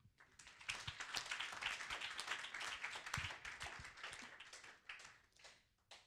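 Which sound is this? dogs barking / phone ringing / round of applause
round of applause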